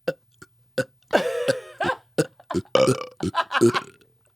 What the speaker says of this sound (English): I could burp on command.